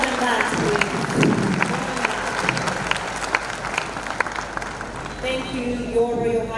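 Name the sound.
audience applauding at a university graduation ceremony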